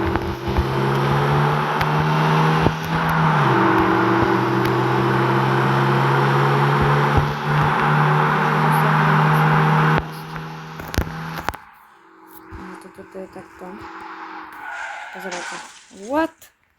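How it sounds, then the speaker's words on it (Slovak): A car drifts with its tires skidding in a steady, loud, sustained screech and engine drone, which changes pitch partway through before dropping to quieter rumbles and scrapes. "To auto strašne driftuje."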